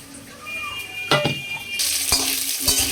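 Paneer frying in a little oil sizzles into a loud, bright hiss partway through, with sharp metal clanks of a spatula against the pan.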